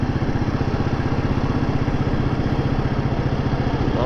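A Royal Enfield Meteor motorcycle climbs a gentle uphill road in low gear, its single-cylinder engine thumping in a steady, fast, even pulse, close and continuous with no voices.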